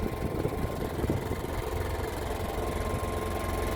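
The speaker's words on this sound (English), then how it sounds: "it's still a generator. You can still hear it, obviously." An NPS generator fitted with an eco kit runs outdoors with a steady low engine hum and rumble. The sound is continuous and moderately close, with faint wind noise.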